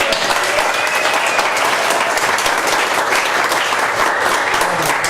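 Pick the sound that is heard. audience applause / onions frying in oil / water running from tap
audience applause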